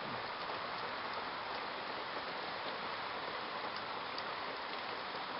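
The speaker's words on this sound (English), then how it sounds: "It is pouring!" Heavy pouring rain during a big summer storm, a dense, continuous hiss of downpour at steady loudness throughout with no pauses.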